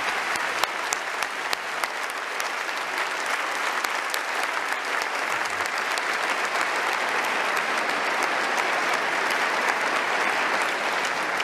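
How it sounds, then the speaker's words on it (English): Sustained audience applause for debaters at a live debate event, steady dense clapping from a large crowd throughout, fairly distant with no talking. "a round of applause for our debaters"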